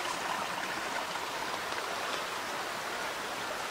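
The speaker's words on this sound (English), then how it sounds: "You can hear there's water flowing underneath the ground." Water running through a stream beneath the ground along a hemlock forest trail, a steady broadband rushing and trickling wash that holds an even level throughout, fairly close, with no voices.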